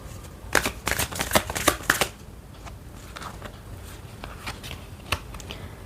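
A deck of Beast Soul Oracle cards is shuffled close by, a quick run of crisp riffling snaps followed by a few softer, scattered card flicks, with no talking.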